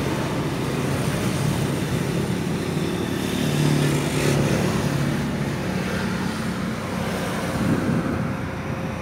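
A 2006 Toyota Innova 2.0L CNG engine fitted with an HHO fuel saver runs with a loud, steady, close drone that holds an even level throughout, with no voices over it.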